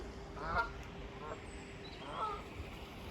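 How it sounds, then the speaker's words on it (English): Distant geese flying in formation honk a few times in scattered calls over a steady background hum, faint and far off. "Little squadron of geese."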